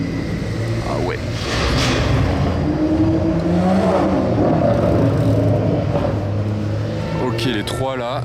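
BMW M8 engine revving loudly nearby, a rising rumbling exhaust roar with crackles, mixed with street background and people talking over it.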